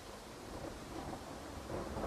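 Thunder rolls and rain pours in a simulated swamp, a continuous low rumble under a wash of rainfall that swells louder toward the end, with no voices.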